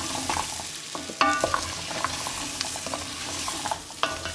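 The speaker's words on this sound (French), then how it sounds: "On mélange correctement pour que les carottes soient bien imprégnées" Carrots stirred in a hot pot with curry, a near scraping and rattling stir over a soft background sizzle, with several sharper knocks of the spoon, no talking.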